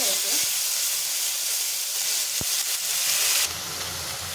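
Loud, steady hiss and sizzle of spice paste sautéing in hot oil for samosa filling, continuous throughout with a brief clatter and the sizzle dropping slightly near the end.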